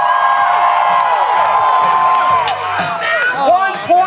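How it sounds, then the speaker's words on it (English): Spectators at a fair's jousting tournament cheer, whoop and clap loudly as the knights set, a lively crowd roar with shrill shouts rising near the end. "Knights are set and the crowd goes wild."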